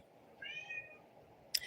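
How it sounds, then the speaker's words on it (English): A house cat meows faintly in the background of a quiet room, one drawn-out cry followed by a short sharp sound. "my cat crying in the background"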